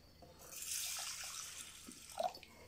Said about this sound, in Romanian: Nu fac altceva decât îl acopăr cu apă.